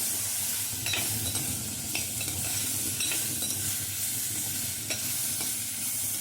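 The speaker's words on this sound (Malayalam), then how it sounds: "ഒരു വലിയ തക്കാളി ഇട്ടിട്ട് ഒരു പച്ചമുളക് ഇട്ടിട്ടുണ്ട് ചിരട്ടടുപ്പിൽ കൊടുത്തിട്ടുണ്ട് അതാണ് ഒന്നിച്ചിട്ട് വാടുന്നത്" Tomato and green chili sauté in a pot over a coconut-shell-fuelled stove, a steady close sizzle broken by periodic scrapes and taps of a stirring utensil against the pot.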